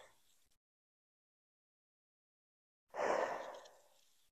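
A single slow, audible exhale during a yoga flow, close and soft, following a short faint breath and a stretch of near silence.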